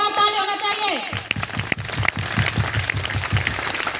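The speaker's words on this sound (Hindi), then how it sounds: "जोरदार ताली होना चाहिए" An audience at a DXN gathering in Samastipur claps in a steady rhythmic beat, loud and continuous, just after a voice speaks.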